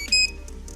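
A smart door lock gives a single short, bright electronic beep as it unlocks by fingerprint, followed by a few faint soft chirps in a quiet room.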